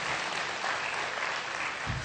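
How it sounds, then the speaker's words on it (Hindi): An audience applauds at a poetry event stage in Mount Abu, with dense, steady clapping filling the whole moment at a moderate distance. "स्टेज से ताली आ रही है।"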